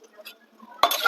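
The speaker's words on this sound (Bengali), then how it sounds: "নাড়াচাড়া করে দেবো।" Goat meat with hot water in a pressure cooker pot is stirred with a metal utensil. Soft faint scraping is followed by a sudden louder burst of clinking and scraping near the end.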